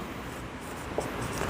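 A marker or chalk scrapes on a board during an organic chemistry nomenclature lesson. The writing is faint and continuous, a soft scratchy stroke heard alone with a slightly firmer touch near the end.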